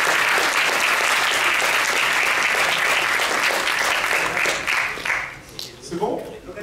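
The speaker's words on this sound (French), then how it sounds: "Vous avez de la chance, on peut les applaudir." An audience claps for guests at the Monaco Magic 2023 opening ceremony, loud sustained applause that thins out toward the end as a voice starts speaking.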